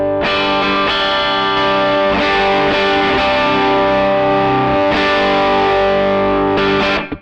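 An electric guitar runs through a boost effect on a Line 6 Helix Stadium XL modeler, ringing out loud, sustained, slightly driven chords with a few brief breaks before the last chord cuts off.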